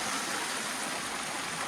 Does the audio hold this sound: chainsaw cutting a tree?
no